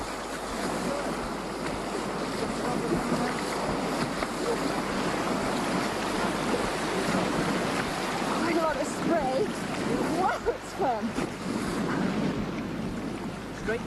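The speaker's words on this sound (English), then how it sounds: "And so, onwards to the rapids." Loud, continuous rushing water with rough churning and splashing throughout, like a boat moving through river rapids at Symonds Yat; a few voices call out faintly in the middle.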